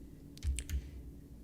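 Typing on a computer keyboard while working in Photoshop: a short, quiet burst of a few quick keystrokes clustered together, with no talking.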